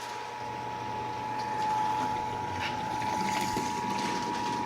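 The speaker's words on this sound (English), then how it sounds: "Transferring the wort in." Wort for a vanilla java porter pours steadily into a carboy, a continuous close liquid rush and trickle with a faint steady hum, no talking.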